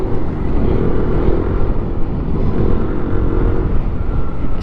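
A Yamaha DT dirt bike ridden on a trail, its engine droning steadily and loudly throughout without pause, a continuous low mechanical hum with no speech over it.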